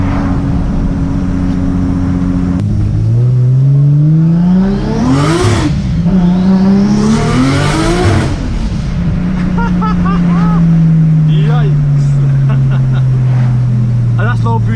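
A 700bhp rear-wheel-drive Nissan Skyline R33 on winter tyres accelerates hard along a street. Its engine revs up through two loud sweeping pulls and then settles into a falling drone. Someone talks over it.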